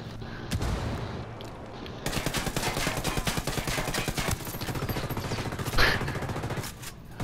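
Rapid bursts of automatic gunfire in a first-person shooter game, close and loud, with sharp repeated shots merging into sustained fusillades and a brief louder blast near the end, while players talk faintly underneath.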